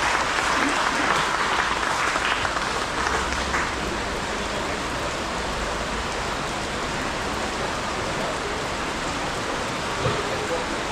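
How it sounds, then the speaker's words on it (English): Audience applause at a Divali celebration in West Palm Beach, Florida, a dense continuous clapping from a crowd that stays steady and full for about eleven seconds, with no clear talk on top. "give him a round of applause, ladies and gentlemen."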